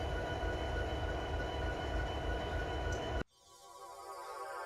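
A freight train in the Run 8 train simulator video game rolls past with a steady loud rumble and wheel noise that cuts off abruptly as the rear end clears, leaving a quieter hum that slowly swells.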